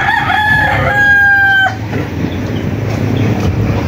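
A rooster crows loudly and close in one long drawn-out call, followed by softer clucking from chickens on a rural property, with no voices.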